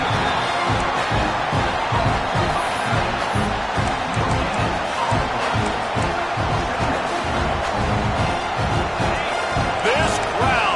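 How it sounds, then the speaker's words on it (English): Loud, dense roar of a packed stadium crowd cheering at a Florida State college football game, sustained and unbroken throughout, with a commentator's voice faintly under the noise. "This crowd, full throat, splitting the eardrums and letting them know it's going to be a long day."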